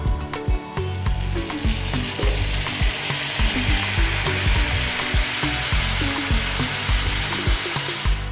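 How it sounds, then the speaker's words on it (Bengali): Potatoes and cauliflower fry in a pan with ghee and a sprinkle of pepper, a loud continuous sizzle close by, broken by repeated scraping and clinking as the pieces are stirred, with no talking. "আলু আধ ভাজা হয়ে এসেছে, আমি কিছুটা গোলমরিচের গুঁড়ো ছড়িয়ে দিলাম, ফুলকপিগুলো দিয়ে দিলাম।"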